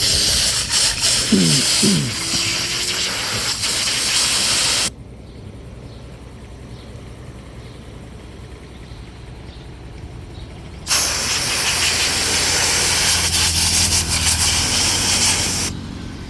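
Compressed air blasts dust from a car radiator filter in two long, loud hissing bursts, the first lasting about five seconds and the second about five more after a quiet pause. Faint background noise fills the gap.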